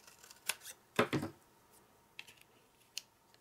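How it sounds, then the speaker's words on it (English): Scissors make a few quick snips cutting the corner off a small paper treat bag, with crisp close clicks and rustles separated by quiet pauses. "snip off the corner."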